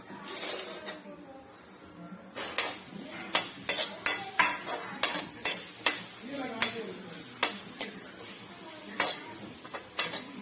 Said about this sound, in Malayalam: നല്ലവണ്ണം അത് വറുത്തെടുക്കാം നമുക്ക്